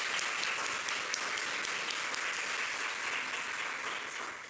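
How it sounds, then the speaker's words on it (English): An audience at a Buffalo State art conservation graduation, Class of 2024, gives a steady, even wash of applause that holds throughout and tapers slightly at the close. "I would like to applaud you at this time"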